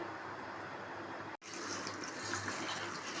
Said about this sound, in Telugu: ఈ అటుకులను అయితే ఇట్లా వాటర్ వేసి కడుక్కోవాలండి